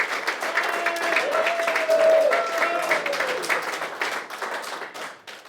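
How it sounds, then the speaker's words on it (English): A crowd applauds a fundraising prize draw winner for a retro VW camper van. The clapping swells, holds steady for a few seconds, then fades out, with a voice briefly heard underneath. "So another big round of applause."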